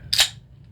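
A beer can cracks open nearby: one short, sharp snap-hiss that fades within a fraction of a second over a quiet room background.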